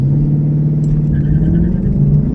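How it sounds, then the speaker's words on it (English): Loud, close rumble of a 2015 Ford Mustang with a 6R80 automatic held on a transbrake, a steady low engine drone with a slight rise in revs and no voices. "let's see if I can get the car to roast tire off the Transbrake"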